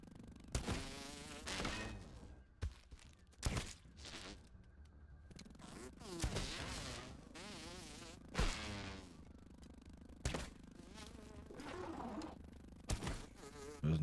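Mosquito buzzing in the video game Grounded, a thin insect whine rising and falling in bursts amid other game sounds and clicks.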